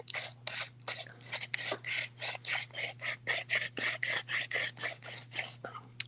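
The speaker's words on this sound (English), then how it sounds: "Let's go ahead and grind it down." Cannabis being ground in a handheld herb grinder, giving a rapid series of about twenty rhythmic scratchy rasping strokes, close and fairly quiet over a steady low hum.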